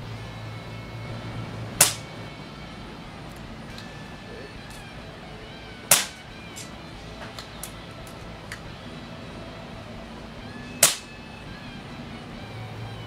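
Daystate Huntsman Classic air rifle heard from 20 feet to the side, three sharp cracking shots spaced several seconds apart over quiet outdoor ambience, with faint small clicks between.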